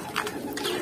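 Pigeons from a Baku flock coo and call close by in short repeated phrases while being fed, with light shuffling underneath and no talk.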